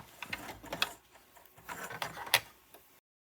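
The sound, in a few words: sewing machine stitching over the starting stitches of a fabric witch hat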